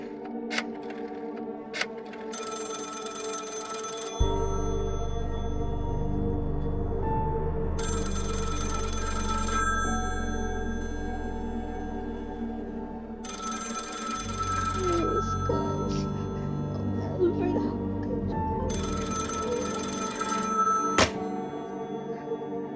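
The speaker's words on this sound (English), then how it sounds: "Operator, try that Maria 7093 number for me just once more, please." An old telephone bell in a radio play rings in four evenly spaced bursts, each several seconds long, over a low steady background hum, with occasional clicks in between.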